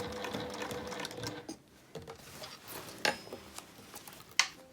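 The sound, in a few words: industrial sewing machine sewing a bag opening slowly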